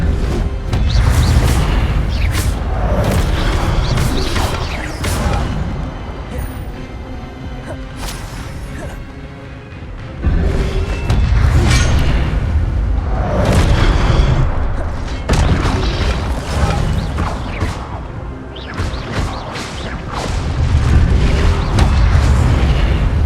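Spells are cast in the video game Hogwarts Legacy, a run of loud, booming magical impacts and crashes over dense game music and effects, with bursts coming in waves.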